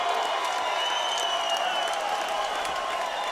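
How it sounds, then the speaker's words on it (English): Boxing arena crowd in Cheyenne, Wyoming, on its feet during a fight, roaring and applauding in a steady, dense wash of cheers that fills the space without a break. "The Cheyenne, Wyoming crowd in unison on their feet."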